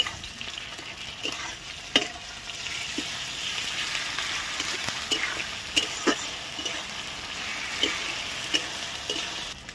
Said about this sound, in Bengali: পেঁয়াজটা হালকা ভাজা ভাজা হয়েছে, আমরা আদা রসুন পেস্টটা দিয়ে দেবো।